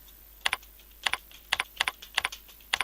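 Keys clatter on a computer keyboard while code is typed, quick close bursts of paired clicks in short irregular groups with quiet gaps.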